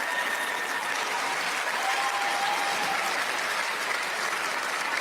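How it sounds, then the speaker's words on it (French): A crowd at the presentation of the mascot for the 2026 Youth Olympic Games breaks into loud, sustained applause, an even, continuous roar of clapping that holds for about five seconds with faint cheering mixed in. "Merci d'applaudir notre mascotte"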